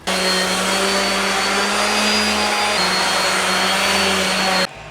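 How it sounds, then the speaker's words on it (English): A palm sander smoothing the face of a carved wooden bear gives a loud, steady electric motor whine that holds level throughout and then cuts off abruptly near the end. "We'll use the palm sander."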